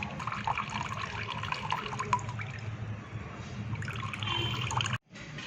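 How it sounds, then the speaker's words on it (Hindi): Cardamom-infused water squeezed and wrung out through a cloth, a continuous splashing trickle and drip into a pan, close and steady, cutting off abruptly near the end. "इसे प्रेस करके सारा पानी निचोड़ लें"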